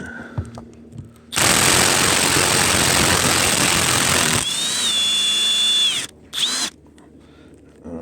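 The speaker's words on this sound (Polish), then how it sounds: "Kilka uderzeń, kilka uderzeń tego młotka i pójdzie." A loud power tool, likely a hammer drill or breaker, runs in long continuous bursts during the dismantling of generator units, stopping briefly and then restarting for a shorter burst.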